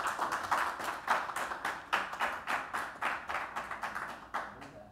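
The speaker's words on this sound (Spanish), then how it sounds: "Entreguémosles nuevamente un cariñoso aplauso" A seminar audience on social networks and older people in Chile claps after a talk, with a steady, evenly spaced patter of hand claps from a modest crowd that lasts throughout at moderate loudness.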